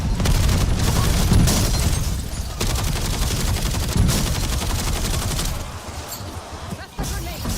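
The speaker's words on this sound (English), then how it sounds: "That's the grenade." Grenade explosion in a shooter video game, a loud booming blast amid dense rapid gunfire, with heavy rumbling bursts and sharp shots filling the whole stretch, then briefly thinning near the end.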